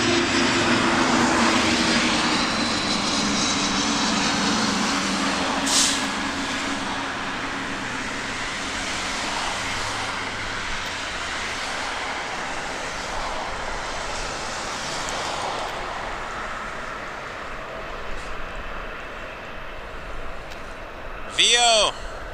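A Korean Air jet airliner in SkyTeam livery landing on runway 05 at Toronto Pearson: a broad engine roar that is strongest at first and slowly fades, with someone talking over it.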